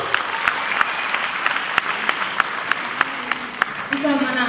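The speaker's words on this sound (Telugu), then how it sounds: "సో వాళ్ళందరినీ కూడా ఒకసారి తలుచుకుంటూ గట్టిగా చప్పట్లు అందరూ వారి కోసం." An audience at an Ugadi celebration event claps steadily for a few seconds, a dense wash of applause with scattered louder claps, and a voice comes in near the end.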